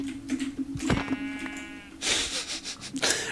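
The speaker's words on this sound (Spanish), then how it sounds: "Las ovejas." Minecraft sheep bleat in a short, tonal call, heard once clearly near the start and again later amid light game background noise and rustling.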